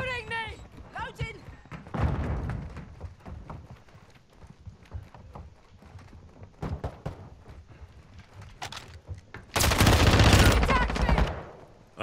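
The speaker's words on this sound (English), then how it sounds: "Stop shooting me, Odin." Video game gunfire in a shooter with a Spawn character: bursts of automatic fire and scattered single shots come and go, ending in a long, loud, sustained barrage. A voice talks over the shooting at times.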